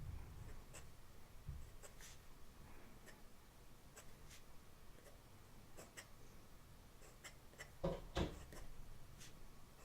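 Vintage Waterman's fountain pen with a music nib writing notes on paper: soft, faint scratching strokes in short rhythmic bursts, close and quiet, with a few small taps.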